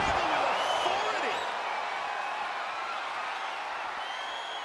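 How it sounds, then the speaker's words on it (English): A roaring arena crowd in the wrestling video game WWE 2K22 cheers loudly and steadily throughout, a dense sustained wall of noise with faint shouts and whistles inside it. "The sound of this crowd is deafening, and he's asking for more."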